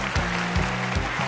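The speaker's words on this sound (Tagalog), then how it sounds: "tuloy nyo na yung palakpak nyo" Audience applause at an afternoon music program, a short burst of dense clapping layered over a steady tonal hum or background music with soft rhythmic thumps.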